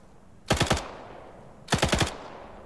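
Two short bursts of video-game gunfire in a World War II shooter, each a rapid four- or five-round volley, about a second apart, sharp and fairly close with quiet between them.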